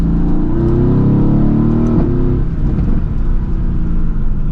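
A Mercedes-AMG GT S engine roars steadily with a deep, throaty rumble, briefly dipping in pitch midway before surging again, loud and close.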